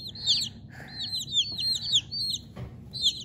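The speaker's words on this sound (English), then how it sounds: "All right, so our lethargic chick here is doing very well." Repeated high peeping chirps from hatchery chicks under a brooder, rapid overlapping calls close by, with a faint low background hum and no talking.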